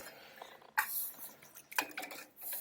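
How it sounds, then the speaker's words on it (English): A spoon scraping and clinking against a pot while a cornstarch and sugar mixture is stirred on the stove, two sharper metallic knocks among soft intermittent scrapes, quiet and close. "I'm going to add that mixture of cornstarch and sugar and stir"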